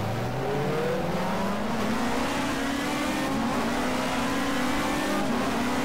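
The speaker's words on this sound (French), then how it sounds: "Oh, le bruit du moteur de la 405 est terrible." A Peugeot 405 touring car in the racing game GTR2 revs loudly and continuously, its engine pitch climbing steadily through the gears with no one talking over it.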